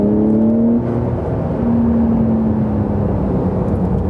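A Porsche 911 992 Carrera S engine drones loudly and steadily from inside the car as it drives on open roads, its pitch holding with a slight dip and then a smooth, sustained run.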